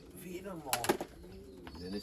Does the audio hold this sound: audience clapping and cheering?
no